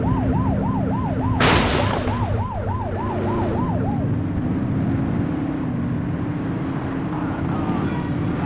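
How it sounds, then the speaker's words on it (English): A police car siren in a video game wails loud and close in a rapid up-and-down yelp for a few seconds over steady engine rumble, then cuts off while the engine drone continues. "You're only meant to use the siren in emergencies."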